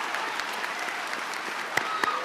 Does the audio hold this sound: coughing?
no